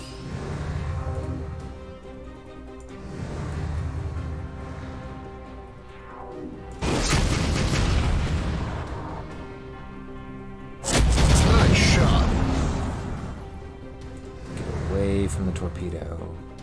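Enemies blown up in the space strategy game Sid Meier's Starships: a few loud, crashing explosion bursts stand out over a continuous game music bed, the biggest coming late, while someone talks throughout.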